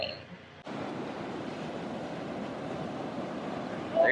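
Big ocean waves break and wash onto a surf beach, a loud, steady roar of churning water that starts abruptly and holds for several seconds, close by with no talk over it.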